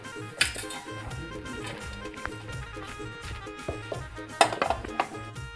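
Metal utensils clink against a plate as home-cooked fenugreek (methi) bhaji is served beside jowar bhakri, with two sharper clatters standing out amid softer scraping and tapping.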